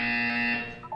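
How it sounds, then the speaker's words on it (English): A buzzer from the Portal 2 video game tutorial rings as one sustained, loud electronic tone that holds steady and then breaks into a short, higher-pitched end. "When you hear the buzzer, look up at the ceiling."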